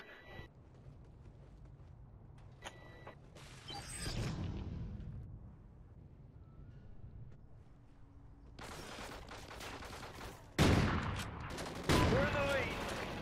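Video game gunfire comes as scattered faint pops early on, then louder dense bursts of rapid shots near the end, with voices talking at times.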